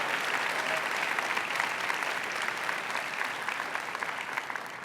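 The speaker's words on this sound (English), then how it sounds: "give a big round of applause for Myra" Keynote audience at a Dreamforce 2023 tech conference applauding, a dense steady wash of clapping from a large crowd that holds loud and even throughout without voices on top.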